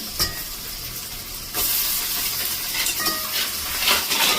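Washed crab pieces hit a hot pan with a sudden louder sizzle partway through, joined by metal utensil scrapes and clinks against the pan as the crab is stirred.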